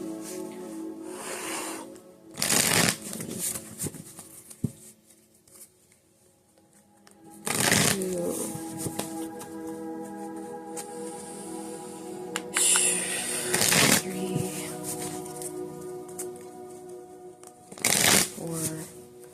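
Tarot cards are shuffled in several brisk riffling bursts spaced apart, close up, with a faint voice murmuring in the quieter stretches between them.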